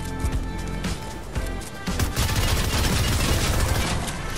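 Rapid-fire SMG gunfire in Fortnite, a dense, loud stream of shots with scattered impacts and crashes, building into continuous firing over the second half.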